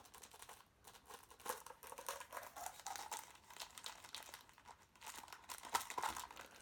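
Crinkly scraping and tearing as a blade cuts open a cardboard box of Puch moped parts, a steady run of close, quiet rustles and crunches with no voices.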